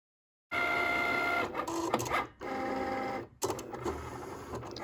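A Cricut cutting machine cuts a sticker sheet with close, printer-like motorized whirring that runs in several bursts separated by short pauses, after a moment of silence at the start.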